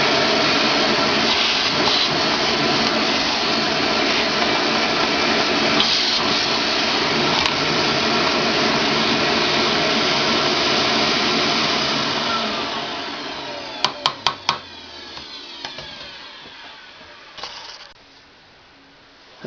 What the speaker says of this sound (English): You got to run the vacuum cleaner.